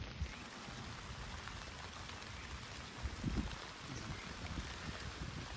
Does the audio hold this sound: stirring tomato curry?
no